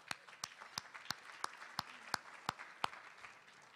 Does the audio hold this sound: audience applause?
yes